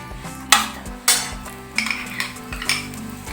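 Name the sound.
spreading ghee on a paratha cooking in a pan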